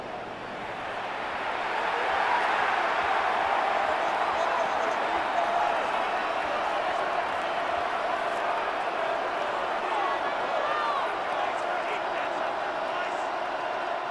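Stadium crowd at an NFL wildcard playoff game between the 49ers and Eagles swells into a loud, sustained roar during the final seconds, building quickly then holding steady as home fans urge their defense on.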